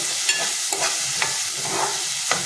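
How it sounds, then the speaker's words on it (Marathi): Peeled fresh cashews, potato and drumsticks are stir-fried in a pan, giving a steady bright sizzle with a few scraping stirs of a spatula. "सोललेले काजूगर, बटाटा आणखी शेगलाच्या शेंगा हे सुद्धा आपल्याला व्यवस्थित परतून घ्यायचं आहे।"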